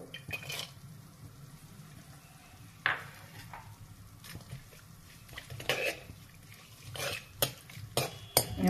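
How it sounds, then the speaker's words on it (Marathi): Grated coconut frying on a low flame in a pan, with a soft steady sizzle under scattered sharp clinks and scrapes of a spoon stirring against the metal. "खोबरं पण अगदी पटकन तळून होतं."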